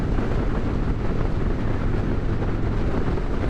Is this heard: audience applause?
no